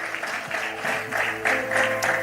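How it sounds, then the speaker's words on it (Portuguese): A church congregation claps during a worship service in praise of Jesus, a brief, moderately loud burst of crowd applause with a slight swell toward the end. "aplaudindo a Jesus, porque Ele é bom"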